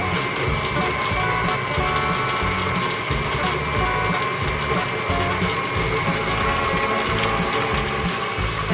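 Mixer stirs eggs into pumpkin spice cupcake batter, a steady close mechanical whir with rhythmic gear-like clatter throughout.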